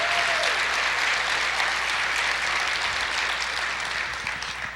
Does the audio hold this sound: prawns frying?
no